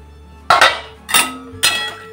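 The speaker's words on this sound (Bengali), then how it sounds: "ঢাকনাটা আমি খুলে দিচ্ছি।" A metal lid comes off a cooking pot of boiling jackfruit seeds, making three sharp clinks and clanks in quick succession close at hand, each followed by a short ringing decay.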